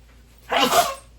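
One close, loud sneeze, a short sharp burst of breathy noise that dies away within half a second.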